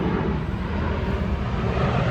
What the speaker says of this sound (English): It's a little baby plane this time.